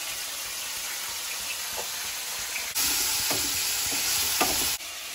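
Potatoes and whole cumin frying in hot oil give a steady, close sizzle. Scraping stirs punctuate it, and the sizzle surges louder around the middle before easing back near the end.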